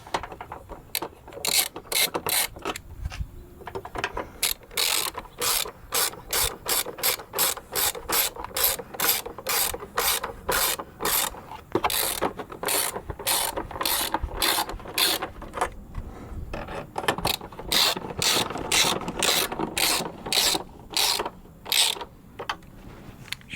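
A ratchet tightens the battery hold-down on a Honda Odyssey, giving long runs of rapid, close clicking strokes with short pauses between bursts.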